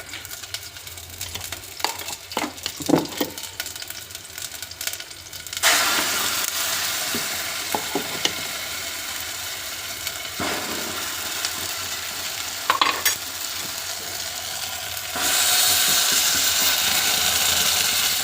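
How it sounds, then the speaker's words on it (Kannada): Loud, steady sizzling of ground masala dropped into hot oil for tempering a fish curry, with occasional stirring scrapes and clinks, continuing for a long stretch without talk. "ಇದನ್ನು ಈಗ ಒಗ್ಗರಣೆ ಹಾಕ್ಬಿಡೋಣ"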